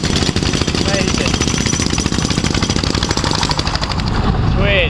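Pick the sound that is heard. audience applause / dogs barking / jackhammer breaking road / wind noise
jackhammer breaking road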